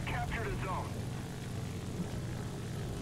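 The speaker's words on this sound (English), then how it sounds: "There's four planes up. They're all P-47s." P-47 propeller fighters in War Thunder drone overhead as a steady low engine rumble that holds for the whole stretch, with a few brief higher tones near the start.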